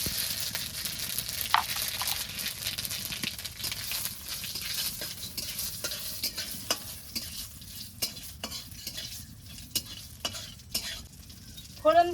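Dried chillies, whole cumin and radhuni crackle and sizzle in hot oil, a continuous busy frying hiss with scattered pops and a stir or scrape near the end. No voices.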